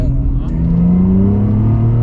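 A naturally aspirated Ferrari engine pulls hard under acceleration, heard close from inside the car as a loud, steady rising drone with a strong low growl and gradually climbing pitch.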